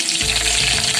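Cumin seeds and curry leaves hit 4 to 5 spoonfuls of hot oil and burst into a loud, steady sizzle, a dense crackling hiss that holds for the whole second with no voice over it.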